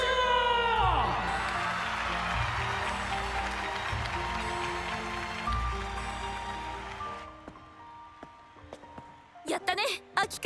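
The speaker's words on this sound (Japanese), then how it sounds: "盛大な拍手を。" An audience bursts into applause and cheering at the Cardfight!! Vanguard Divinez Deluxe finals, a dense, rain-like wash of clapping over musical tones that fades out, followed by a few sharp sounds.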